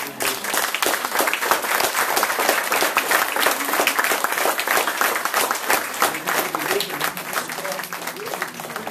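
Wedding guests break into dense, sustained applause that stays steady and close for the whole stretch, with voices talking over the clapping.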